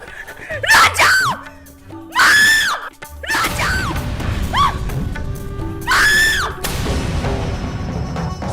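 A woman screams loudly in a Hindi TV serial drama scene, several long shrill bursts separated by short pauses, with a strained wailing quality over a noisy background.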